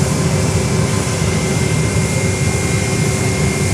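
An airliner departing Fort Lauderdale-Hollywood International Airport gives off a steady, broad jet roar that stays even and fairly loud for the few seconds heard, with no one speaking.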